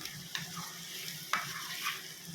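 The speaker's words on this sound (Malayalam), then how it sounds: "ഇതേപോലെ ഇളക്കി കൊടുക്കാം" Ingredients with a pinch of salt stirred in a sizzling frying pan, a soft steady frying hiss broken by faint scrapes of the spoon, heard close but quiet.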